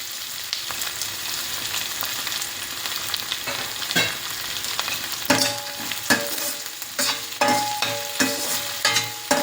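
Cashews for carrot rice fry in a hot pan under a steady sizzle, while a spoon scrapes and stirs them in repeated sharp clatters that grow more frequent toward the end.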